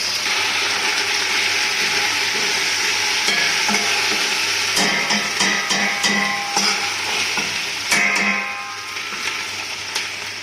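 Ginger garlic paste sizzling loudly in a pan while a spoon stirs it, with scraping clinks and bursts of frying crackle close up, no voices.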